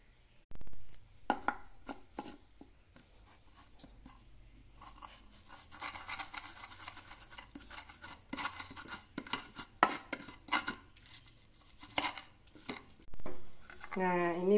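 Spice paste of palm sugar, salt and seasoning is ground for tahu campur, heard as close, irregular knocks, taps and scraping strokes with quiet gaps between bursts.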